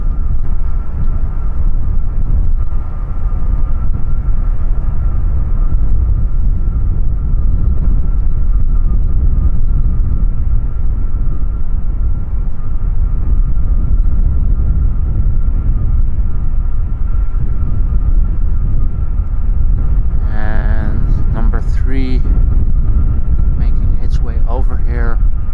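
Airliners taxiing at Amsterdam Schiphol Airport near runway 36L, heard as a loud, continuous low jet rumble with a steady whine, and brief chirping noises near the end.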